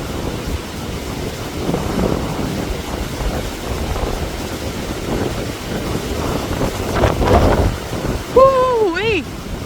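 Strong, cold wind blusters outdoors and buffets the microphone in loud rumbling gusts, with a brief voice-like warble near the end.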